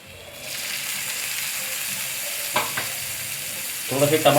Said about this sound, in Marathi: आता आपण टाकणार आहे थोडेसे टमाटर